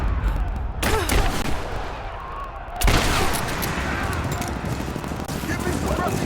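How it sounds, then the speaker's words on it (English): Gunfire in the video game Rise of the Tomb Raider: a steady barrage of shots and booms fills the scene, with a loud burst near the start and another near the middle, under shouted voices. "We're under fire at the end of the village."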